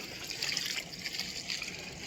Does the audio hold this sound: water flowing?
yes